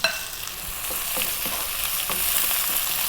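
Onion, garlic and ginger hitting a very hot pan for vegetable fried rice, a loud, dense sizzle with repeated quick scraping stirs throughout.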